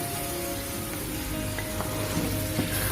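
Boiled goat brain, cleaned of veins, sizzling and frying on a hot tawa for maghaz masala, a dense continuous crackle close up with no talk.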